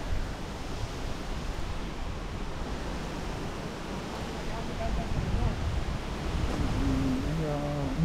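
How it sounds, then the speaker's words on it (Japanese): Steady wind rushing across a summer mountain trail on Daisen in Tottori, a broad continuous roar buffeting close to the microphone, with a faint voice near the end. "風が吹くね。"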